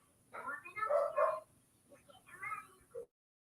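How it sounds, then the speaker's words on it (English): A dog barking in short yips and whimpering bow-wows, a close burst of several barks followed by a quieter second round, with a person's voice mixed in. "It makes our dog bark."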